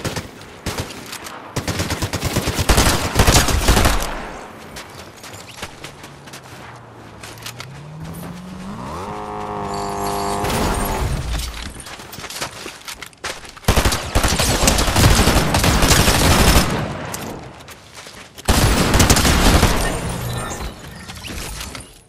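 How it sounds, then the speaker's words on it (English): Video game gunfire comes in several loud bursts of rapid automatic shots, split by quieter stretches where an engine whines up and down in pitch. "Someone's trying to shoot me."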